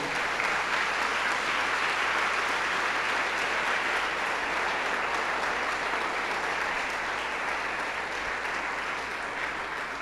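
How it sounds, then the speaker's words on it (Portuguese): A church congregation claps steadily and continuously during a sermon, a dense, even wash of applause that holds at the same level throughout. "Você pode dar uma salva de palmas para Jesus?"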